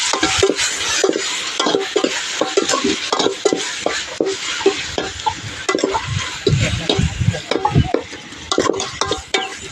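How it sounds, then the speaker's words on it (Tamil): Tomatoes and coriander sauté with salt in a pan as a utensil scrapes and stirs in quick, uneven strokes. Metal knocks against the pan over a light sizzle, close and clear, with no talk. "இப்போ உப்பு சேர்த்து கொஞ்சம் உப்பு போட்டு நல்லா வதங்க விட்டுடலாம்."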